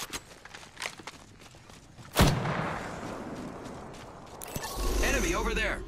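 Gunfire in the battle royale shooter Apex Legends, a few sharp shots and a louder blast amid footsteps and mechanical clatter, with voices calling out over the action.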